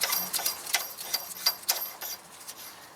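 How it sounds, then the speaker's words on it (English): Light metallic ticking and clicking from a medium wrench spinning the threaded top collar on a coilover spring perch, rear suspension of a BMW E91, a quick irregular run of small close taps with no talk. "use the medium wrench, spin up the top collar on the spring perch like this"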